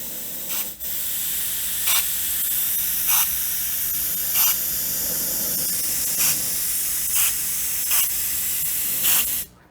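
A GSI Creos PS-290 airbrush sprays air in a steady continuous hiss lasting nearly ten seconds, with short sharper bursts recurring about every one and a half seconds, close and fairly loud, with no talking.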